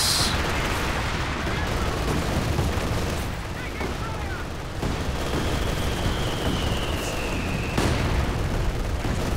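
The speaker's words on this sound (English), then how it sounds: "Land mattress into the team weapon area." A Land Mattress rocket barrage in Company of Heroes 2 rumbles through dense, continuous battle noise of booming impacts and gunfire, loud and sustained for the whole stretch, with a voice talking over the top.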